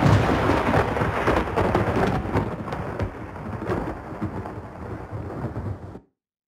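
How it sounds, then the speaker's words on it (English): Thunder from a lightning flash sound effect: a loud, close rumble with crackling bursts that rolls on and gradually weakens before cutting off abruptly, with no voices. "three timelines that play different lightning flashes with thunder"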